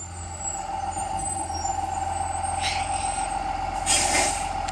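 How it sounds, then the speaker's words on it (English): A big yellow school bus pulls up early in the morning, its diesel engine idling with a steady low drone and hum while two sharp air-brake hisses burst out, the second louder and longer. "Here comes the big yellow bus."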